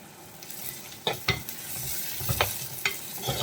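Onions sautéing with a pinch of salt in a pan for a tuna coconut-milk curry give a soft, steady sizzle broken by several sharp scraping stir strokes, close by and with no talking.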